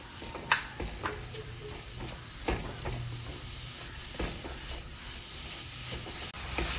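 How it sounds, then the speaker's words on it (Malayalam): Carrots stirred with a spoonful of sugar in a pan over a low flame, for a payasam, give a soft steady hiss broken by sharp spoon clinks and scrapes against the pan. "അപ്പോൾ നമുക്ക് ഇതിലേക്ക് ഞാനൊരു സ്പൂൺ പഞ്ചസാരയും കൂടി ഇട്ടിട്ടൊന്ന് വഴറ്റുകയാണ്"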